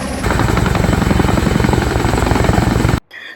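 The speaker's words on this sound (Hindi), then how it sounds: "ये हेलीकॉप्टरों की आवाज़, वहाँ की उनकी गर्जनाएँ पहाड़ की शांत वादियों पर गूंज रही है" Helicopter rotors and engine roaring continuously and loudly over mountain valleys near Dharali between Uttarkashi and Gangotri, a dense pulsing drone that cuts off abruptly near the end.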